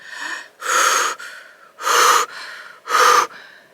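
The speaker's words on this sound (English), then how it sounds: "if you notice yourself kind of panting or like uncomfortably breathing" Vocal coach demonstrates panting, uncomfortable breathing: three loud, breathy gasping bursts alternating with softer wheezy breaths, close to the microphone, with no talking.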